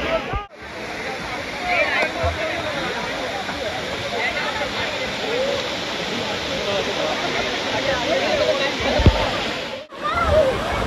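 Dudhsagar waterfall in Goa roars as a loud, steady rush of falling water, continuous broadband noise throughout, with brief dropouts and a splash near the end; people talk faintly beneath it.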